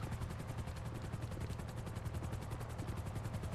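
Helicopter hovering right overhead in the video game GTA 5, a loud close rotor thumping in a fast, even pulse with a heavy low drone, steady for the whole stretch and alone.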